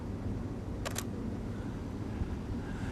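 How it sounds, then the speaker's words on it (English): A camera shutter fires once at a slow speed of 1/20 second, making two quick mechanical clicks close together against a quiet outdoor background hum. "I'm going to slow down my shutter speed to a 20th of a second, redo it again."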